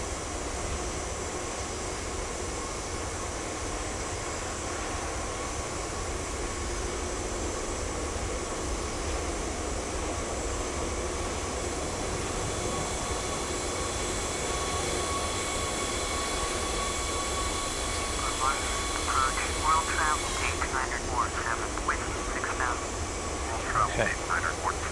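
Simulated airliner engines in Microsoft Flight Simulator X spooling to full takeoff throttle on a very short runway, a steady loud roar and whine that swells slightly near the end, with a voice talking over it.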